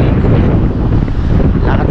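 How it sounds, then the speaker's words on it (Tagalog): Strong seaside wind roars across the microphone in a loud, continuous low-frequency buffeting during an outdoor BMX ride, steady throughout with no pauses. "Ayun, lakas na nga hangin."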